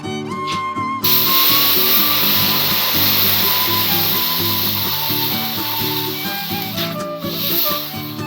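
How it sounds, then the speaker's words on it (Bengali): Semolina frying on a clay stove, a continuous bright sizzling hiss that starts abruptly and holds steady at close range, with faint clinking and no talking. "এখন উনানে সুজিগুলো ভেজে নিচ্ছে"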